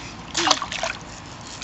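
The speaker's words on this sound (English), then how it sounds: "Oh, there's a big splash." A big splash of water in a swimming pool, a short bright burst of splashing and sloshing up close, followed by smaller trickles and drips.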